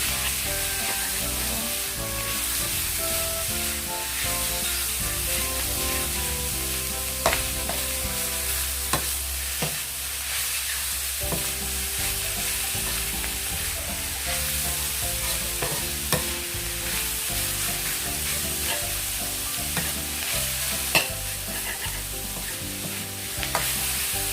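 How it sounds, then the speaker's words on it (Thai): Minced pork is stir-fried in a pan for Thai larb khua, a loud, continuous sizzle with steady stirring and occasional sharp scrapes of a utensil against the pan throughout. "คั่วมาได้สักพักแล้วนะคะ"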